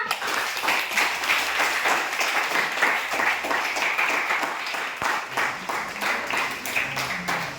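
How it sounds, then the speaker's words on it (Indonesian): A classroom of students claps for a classmate, a steady burst of applause lasting several seconds with no talk over it. "Beri tepuk tangan untuk Sukma."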